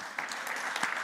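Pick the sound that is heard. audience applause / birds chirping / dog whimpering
audience applause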